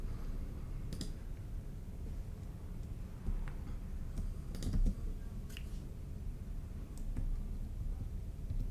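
Computer keyboard keys are pressed while working in Logic Pro X on a trap beat, sparse light clicks alone at low level.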